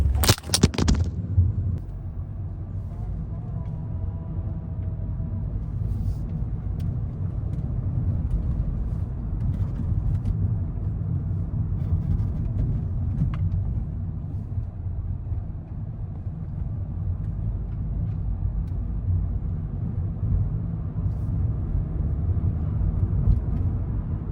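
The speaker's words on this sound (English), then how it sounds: "we are driving in eco mode" A 2025 Changan Eado drives through Riyadh at midnight in eco mode, giving a steady, low cabin drone of engine and road noise after a brief click at the start, with no talk.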